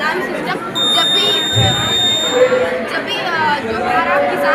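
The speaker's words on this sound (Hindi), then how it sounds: "एक्सटर्नल एनिमल्स और एक्सटर्नल इंट्रूडर्स से बचाने के लिए हम अलार्म सिस्टम का यूज करते हैं" A steady, high-pitched electronic buzzer from a school-project farm alarm system sounds for a couple of seconds at a crowded school science exhibition, partly buried under loud crowd chatter.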